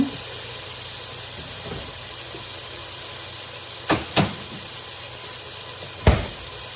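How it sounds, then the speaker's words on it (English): Food cooking in a pot on the stove as it comes up to a boil, a soft steady sizzling hiss with a few brief clinks and knocks, no speech. "let it cook for 10 minutes. So we're going to bring it up to a boil"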